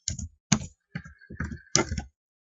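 Keys on a computer keyboard are typed in about six short, separate clusters of clicks and taps, close and clear against silence, with no voice.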